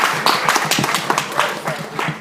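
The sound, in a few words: audience applause for a woman in a lecture hall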